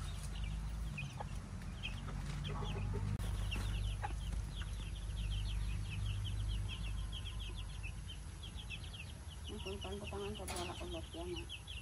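Rhode Island chickens in a backyard flock cluck and chatter in quick repeated bursts, fairly close, over a steady low background hum, with people talking nearby.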